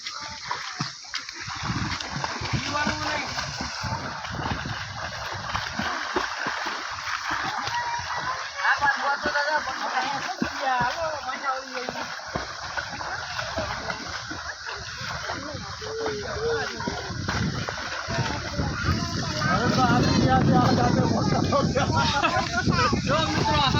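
Swimmers race across a shallow pool on a farm, churning the water into continuous splashes and slaps, with people talking and calling over the splashing, which grows louder toward the end.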